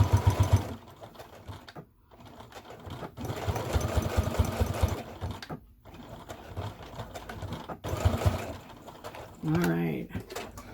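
A sewing machine stitches and back-stitches a simple wallet in short bursts of rapid mechanical whirring separated by brief pauses, with a person talking quietly in between.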